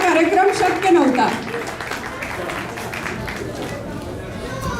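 Hearty applause for the sponsors from the crowd at a Marathi community Gudi Padwa celebration in Milton, clapping mixed with chatter and hubbub, loud at first and then settling into a steadier wash.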